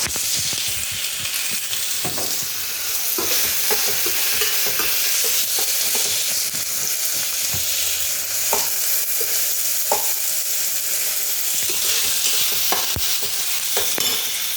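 Chicken frying in a pan with a little tomato added, a loud steady sizzle throughout with repeated scraping stirs and spatula knocks, no voices.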